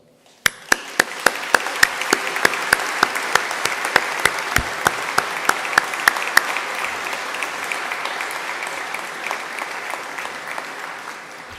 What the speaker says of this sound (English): I think those graduates deserve a huge round of applause from mums and dads